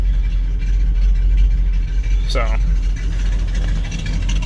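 A 1974 Dodge stepside truck's engine idles steadily with a low exhaust rumble close by, while someone talks over it.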